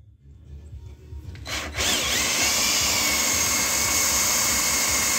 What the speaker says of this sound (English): This is 3/8 plate that we're drilling through, but it's pretty mild.